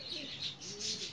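Pigeons cooing softly and continuously through a young-bird training session, a low rolling murmur with a steady background hiss, no talking.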